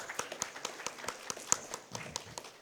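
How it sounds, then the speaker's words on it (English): Applause from a conference audience at a panel discussion, scattered claps and taps at an uneven rhythm, fairly faint and thin, as though only a few people in the hall are clapping. "An applause for breaking the ice"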